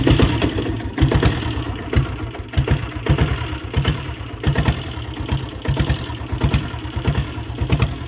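A vintage Royal Enfield Bullet with a diesel engine running steadily at idle, a loud, close, rhythmic low thumping pulse that continues evenly throughout.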